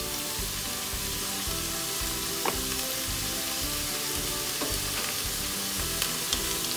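Chopped fenugreek leaves fry with translucent onion in a pan for methi matar pulao. A steady, loud sizzle runs throughout, with a few soft stirring scrapes and no talk.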